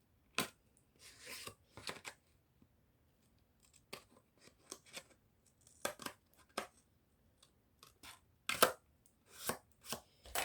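A utility knife slices through a paper card in short, crisp scraping strokes, grouped in bursts with pauses between them, close and fairly quiet, with no talking.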